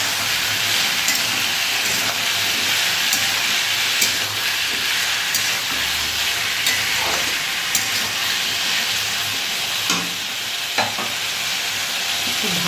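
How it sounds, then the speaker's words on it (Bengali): Ridge gourd with turmeric and salt being stirred in a hot frying pan, with a steady close sizzle and the scrape of a spatula tapping and sweeping through the pan the whole time. "হলুদ আর লবণ দেবো, দিয়ে নেড়ে চেড়ে দেবো।"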